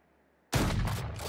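A Valorant shotgun's alternate fire lets off a sudden loud close blast that cuts in abruptly after near silence and rings on in a dense, sustained roar of gunfire.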